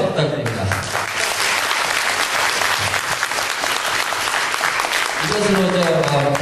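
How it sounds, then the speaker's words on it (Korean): Room full of people at a Korean Democratic Party community meeting in New York claps warmly and continuously, with voices briefly audible at the start and end over the applause. "감사의 박수 부탁드립니다"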